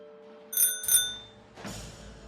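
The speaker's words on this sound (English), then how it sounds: "In the darkness, I could hear my old bike bell chime out." An old bicycle bell rings twice in quick bright chimes, moderately close, followed by a duller rattling clatter, with a faint steady hum underneath and no talk.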